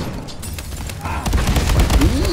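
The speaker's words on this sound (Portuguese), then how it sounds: "De onde veio esse tiro?" Gunfire in a 4 vs 4 World War 2 shooter match, a cluster of sharp shots with booming low-end thumps that grows louder toward the end, with in-game ambience beneath.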